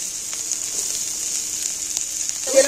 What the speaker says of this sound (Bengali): ডিম ভাজার তেলটাতেই আমি কাঁচা পেঁয়াজগুলো দুটো ছোট ছোট করে কাটা পেঁয়াজ তুলে দিচ্ছি তেলের মধ্যে